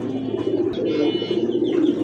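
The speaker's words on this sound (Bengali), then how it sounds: "সুন্দর একটা পেয়ার ডাবল বার্ড একদমই অরিজিনাল রেড চেকার রেসার কবুতর" Pigeons coo steadily and close by throughout, a pair of original red checker racing pigeons, with a few higher chirps layered over the soft continuous cooing.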